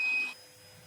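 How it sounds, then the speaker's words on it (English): A cheap robot vacuum cleaner hums with a steady whine that drops abruptly to a quieter, lower drone partway through, close and faint with no talk. "Overall, this is just an excellent robot vacuum to get"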